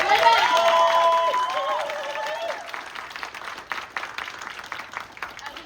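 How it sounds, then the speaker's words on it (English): An audience at a UK Games Expo panel on women in tabletop roleplaying games breaks into loud, steady applause that tapers off over a few seconds, with a voice over the start. "Give them another round of applause."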